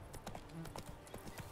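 Horse hooves clip-clop at a steady trot in The Witcher 3 video game, a quick rhythmic run of close, distinct beats under a faint voice.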